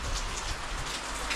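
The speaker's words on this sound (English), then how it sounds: "You can see it's raining outside, and you can't continue." Steady rain falls outdoors at a home building site with a tiled veranda and balcony, a continuous close hiss of drops hitting hard surfaces throughout, with no voices.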